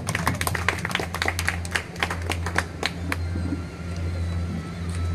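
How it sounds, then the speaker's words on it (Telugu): Applause at a meeting of a town cloth merchants' association honoring its re-elected president, a burst of many hands clapping in dense irregular bursts that thin out and fade toward the end, with a low hum underneath. "ఇంకా తప్పకుండా చప్పట్లు."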